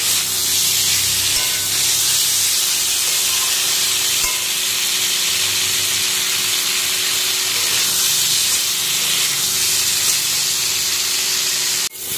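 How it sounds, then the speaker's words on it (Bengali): Potato and cauliflower frying with spices in a pan, a steady close sizzle and hiss running unbroken throughout. "আলু আর ফুলকপিটা ভেজে দিয়ে এখন মশলাটা কষিয়ে নিচ্ছি"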